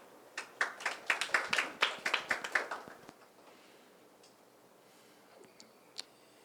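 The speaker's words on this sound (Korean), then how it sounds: "큰 박수로 맞이해 주시기 바랍니다" Audience giving a round of applause at a presentation on electric-vehicle greenhouse-gas reduction projects: a short, fairly faint burst of hand claps from a small group that fades within about three seconds, followed by a few scattered claps.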